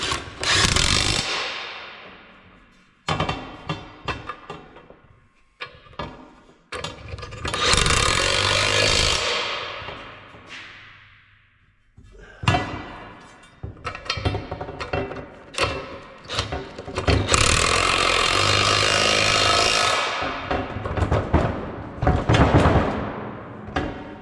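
A half-inch impact wrench works in a shop during plow coulter repair, firing in loud, rough bursts with short pauses between them, some runs lasting several seconds.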